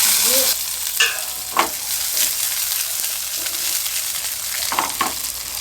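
Chopped onion fries in oil with cumin seeds and curry leaves, a constant close hiss and sizzle with a few spatula knocks and brief stirring scrapes.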